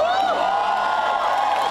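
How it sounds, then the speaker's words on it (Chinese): Concert audience at a rock festival in Taipei cheering and whooping in a loud, steady roar for almost two seconds, with high-pitched vocal shouts rising above the crowd. "掀起一阵阵欢呼。"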